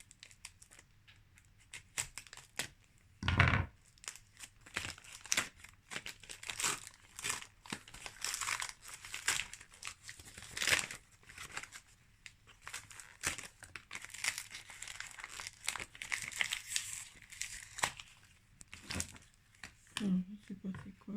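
Heavily taped paper crinkles and tears in bursts as a package is pulled open, close and irregular, with quiet talk mixed in.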